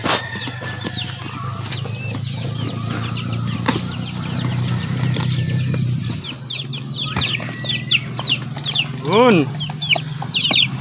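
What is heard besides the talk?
Rhode Island Red chicks peeping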